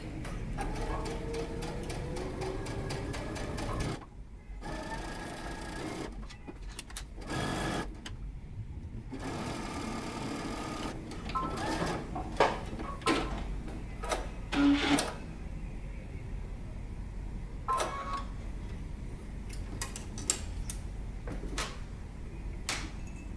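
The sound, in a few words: sewing machine stitching in the ditch on pants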